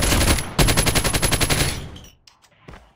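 Sustained automatic gunfire in a shooter video game, a loud, close burst of rapid rounds that cuts off, followed by scattered fainter shots and game sounds.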